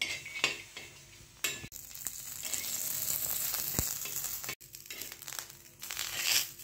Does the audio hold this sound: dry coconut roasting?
yes